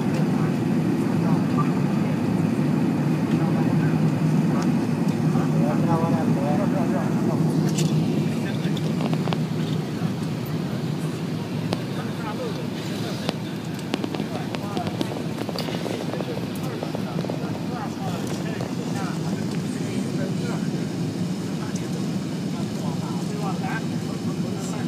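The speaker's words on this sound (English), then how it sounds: "About to land in Hong Kong. Super jumbo" An Airbus A380 super jumbo lands in Hong Kong, heard from the cabin as a steady, loud, broadband roar that holds throughout with faint voices underneath.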